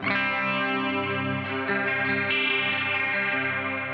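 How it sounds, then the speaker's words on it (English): An electric guitar chord sustains through a Bigsby vibrato pedal with a short upward chorus shimmer, thick and slightly distorted, with a few re-struck chords over four steady seconds. "I can have a chorus upper, so creates a short chorus upper and a short chorus down"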